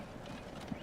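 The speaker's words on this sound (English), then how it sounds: "Beautiful stagecoach." Hooves of horses drawing a stagecoach in the Transport Fever 2 game, a brief soft clip-clop under a steady background hum.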